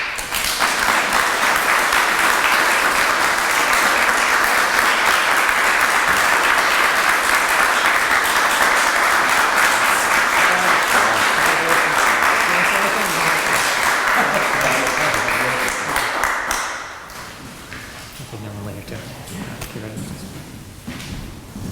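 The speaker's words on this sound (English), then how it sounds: "please give a round of applause to Matthew Salago" Audience at a community development week celebration applauding an award recipient, a dense sustained round of clapping for about sixteen seconds that then drops away to quieter room noise and some talk.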